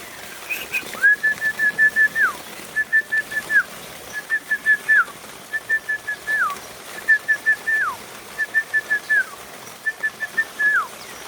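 Repeated short whistled phrases, each a steady note ending in a falling slur, sound about eight times in a regular rhythm near day-old quail chicks, with faint peeping underneath and no talking.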